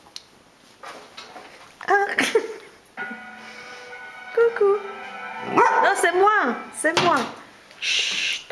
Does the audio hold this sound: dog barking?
yes